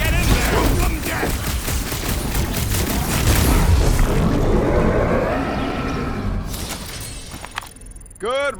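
Heavy gunfire and explosions rage through a battle in the PS5 game Guardians of the Galaxy, with dense continuous shooting and booms under shouted character dialogue, ending in a few sharp whooshing effects.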